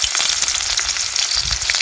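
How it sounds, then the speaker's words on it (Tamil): Fenugreek and fennel seeds crackle and sizzle in hot sesame oil in a village kitchen, a steady close hiss with quick popping bursts throughout. "வெந்தயம் பெருஜீரகம் போட போகிறேன்."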